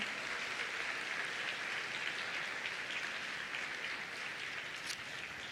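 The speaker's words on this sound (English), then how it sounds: "Could we give them a round of applause?" An audience at an A Level scholarship symposium applauding scholarship winners, soft, even clapping from a room of people, faint and distant, steady for the whole stretch without voices.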